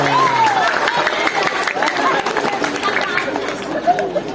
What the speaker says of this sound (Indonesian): Sekali lagi beri aplaus yang meriah